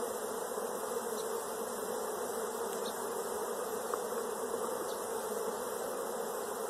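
A large, busy beehive hums with a dense, continuous buzz of many bees, steady and fairly loud throughout with no talking.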